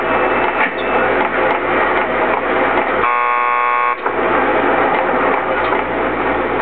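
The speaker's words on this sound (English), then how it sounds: "Just press the buzzer by the door. Petersburg will buzz you in." A door buzzer at a police lockup in the video game Max Payne 2 sounds once for about a second, a steady electronic tone that cuts through continuous mechanical background noise and then stops.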